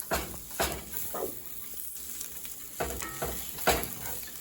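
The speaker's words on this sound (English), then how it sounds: "we're going to give that a good stir" Bacon and nuts are stirred in a frying pan for Brussels sprouts, giving a soft steady sizzle broken by several scraping stir strokes, quiet and close.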